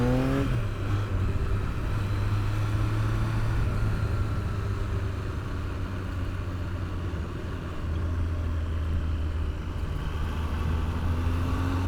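Triumph Daytona T595 motorcycle engine under way, a steady loud low drone with rising pitch sweeps at the start as it accelerates, then holding a constant cruising tone with continuous rumble throughout.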